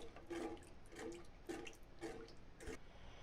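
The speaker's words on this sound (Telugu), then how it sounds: "ఇందులో 1 లీటర్ వాటర్ పోసుకోవాలి" About a litre of water is poured into a pot for rice ganji, heard as faint, quiet splashing in five short surges, with no voices.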